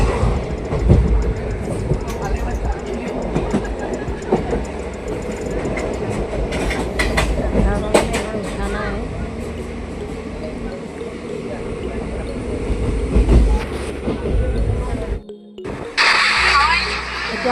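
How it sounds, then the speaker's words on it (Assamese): A passenger train in central Assam runs at full speed, a loud, continuous rumble with rattling clatter and metallic clanks, briefly cutting out near the end before resuming. Voices talk throughout, close to the listener. "এতিয়া আমাৰ ট্ৰেইনখন পূৰা ফুল স্পীডত গৈ আছে"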